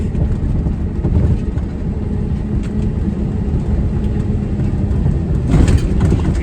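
A truck running with its three-stage electronic engine brake engaged, giving a low, muffled rumbling drone heard from inside the cab, steady and fairly quiet throughout with a slight swell near the end.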